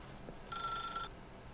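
A telephone rings once in The Stanley Parable video game, a bright electronic trill lasting about half a second above a low, quiet background.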